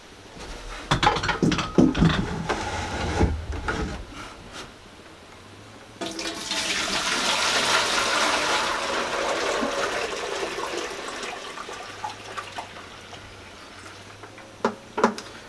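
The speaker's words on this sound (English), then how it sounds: "now I'm going to put the liquid back into my pot" Strained lilac dye liquid for yarn is poured back into a pot, with a steady gushing splash for several seconds after some handling clatter, ending with light knocks.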